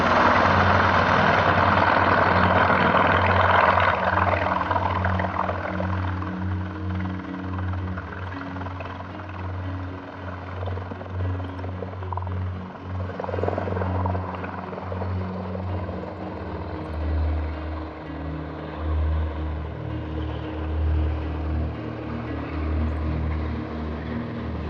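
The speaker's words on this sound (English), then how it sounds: "saw this osprey making practice, landing," Osprey tiltrotor aircraft practicing landings and takeoffs near a desert airport at Ocotillo Wells, a steady loud low rotor drone throughout with pulsing throb, slightly fading then rising again, no voices.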